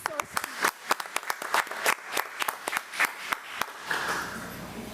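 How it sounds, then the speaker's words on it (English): Scattered applause at a school board committee of the whole meeting, distinct hand claps from a small group in an irregular rhythm for about four seconds before fading into room noise. "So let's give another round of applause to Ms. LaPuz."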